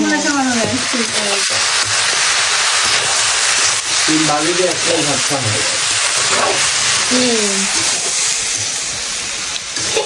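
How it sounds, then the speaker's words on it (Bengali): Flat beans frying with potatoes in a home kitchen, a loud, steady sizzle and hiss that fills the whole stretch while someone talks over it. "এদিকে সিম ভাজি করতেছে, আলু দিয়ে ভাজি হচ্ছে"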